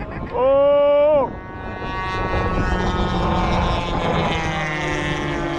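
A 200 mph model P-51D Mustang with a GP76 twin engine flies past with a loud, buzzing engine drone that rises and shifts in pitch, preceded by a brief strong tonal burst.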